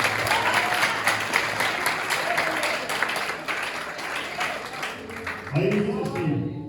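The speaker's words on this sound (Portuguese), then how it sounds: "Dê uma salva de palmas para o Senhor" Church congregation bursting into sustained applause, dense steady clapping from a crowd throughout, with a voice briefly rising near the end.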